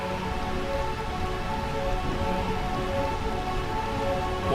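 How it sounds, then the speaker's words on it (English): Steady rain pours in the Final Fantasy IX realm of Bermecia, a dense, even hiss of drops with no pauses, loud and constant throughout, with no voices over it. "Bermecia, realm of eternal rain."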